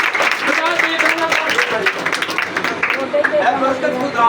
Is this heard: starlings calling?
no